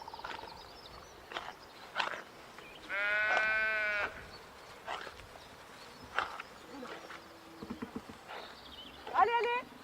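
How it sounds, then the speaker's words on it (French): Sheep let out of a sheepfold into an adjacent meadow bleat in a few distinct calls, one long and prominent, amid hoof shuffling and background movement, with occasional voices nearby. "elle va sortir les brebis et on va voir du coup les brebis sortir et aller dans la prairie"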